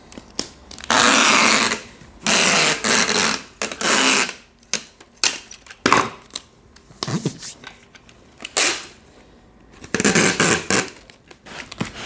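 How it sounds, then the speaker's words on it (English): Packing tape is pulled off the roll and pressed down to seal the top of a cardboard box holding an espresso machine. Several loud screeching rips come in separate bursts, with rustling and tapping in the gaps. "And then we will do our final taping on the top."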